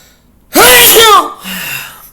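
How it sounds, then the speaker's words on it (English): A single loud sneeze bursts out with a sharp explosive onset, followed by a brief quieter exhale and murmur. "I'm about to sneeze."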